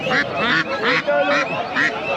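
Pekin ducks quack in repeated short bursts at a busy rural market in Bangladesh, the calls close and fairly loud, with voices talking underneath.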